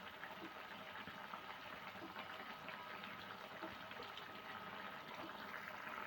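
A brinjal curry simmering in a pan on a gas stove: a faint, steady bubbling hiss with soft gurgles, close and continuous, no talk.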